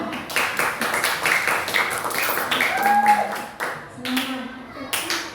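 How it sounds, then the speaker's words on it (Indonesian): A class of students claps together in a classroom, a steady run of rapid hand claps with voices calling out over it. "Tepuk tangan untuk kita."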